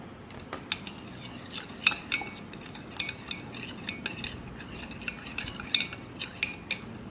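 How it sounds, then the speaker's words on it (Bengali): A metal spoon clinking and scraping against a coffee cup while stirring in sugar and milk, quick irregular taps over a soft swirling hiss, close and fairly clear, with no voices. "কফিতে চিনি, দুধ সব কিছু মিক্সড করে নিয়েছি।"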